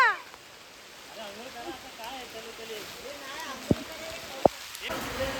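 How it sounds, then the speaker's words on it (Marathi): May rain falls on a Konkan village, a steady hiss of drops on surfaces with a few sharp louder drips, while faint voices carry in the background. "पाऊस ए पाऊस आला"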